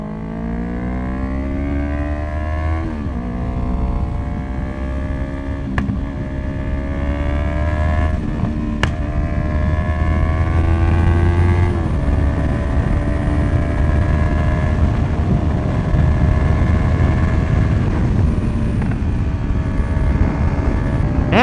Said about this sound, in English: this bike is popping like crazy